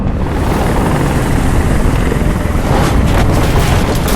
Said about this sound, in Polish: Ale helikopter hałas.